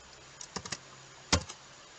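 A few soft keystrokes on a computer keyboard: a quick cluster of three or four light taps, a pause, then one sharper, louder press followed by a faint tap, close and quiet in a still room.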